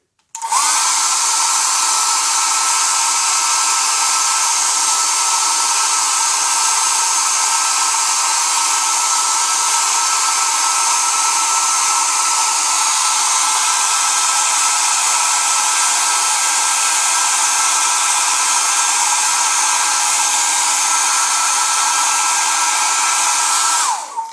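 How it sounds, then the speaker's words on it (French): A hair dryer blows steadily at full power for over twenty seconds, softening plastic tubing while fitting a reverse osmosis filter tap, a constant loud whooshing hum that cuts off abruptly at the end. "je vais utiliser le sèche-cheveux"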